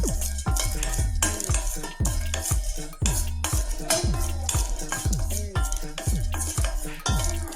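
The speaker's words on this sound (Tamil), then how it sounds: "இப்போ இந்த ஏலக்காவை லைட்டாக வறுத்து எடுத்துக்கலாம்." Cardamom pods are stirred as they roast lightly in a hot pan, with repeated rhythmic scrapes and clinks of a metal spoon against the pan, steady and close.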